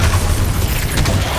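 A Confringo fire spell bursting in Hogwarts Legacy gives a continuous loud, rumbling blast with crackling noise throughout, dense and booming with no clear pause.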